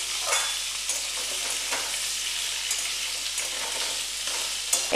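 Diced potato and pumpkin fry in a pan over medium flame, a continuous close crackling sizzle broken by a few stirring scrapes, with no voices.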